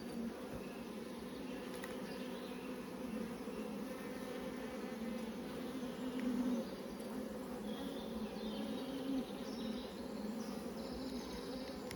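Honeybees buzz in a dense, steady drone from an open hive with capped swarm cells, checked after an artificial swarm, the sound close and continuous with slight swells and no talking.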